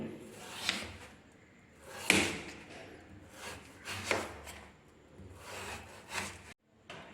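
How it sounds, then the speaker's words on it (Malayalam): Intermittent scraping and rasping strokes as the skin is peeled off an ash gourd for kumbalanga pachadi, close by, in several bursts with brief pauses between. "ആദ്യം തന്നെ വേണ്ടത് ഈ കുമ്പളങ്ങയുടെ തൊലി കളഞ്ഞെടുക്കുകയാണ്."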